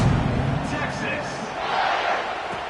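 Crowd noise from a stadium in an American college football video game, Texas vs Oregon, a steady broad roar that swells slightly near the end beneath a commentator's voice.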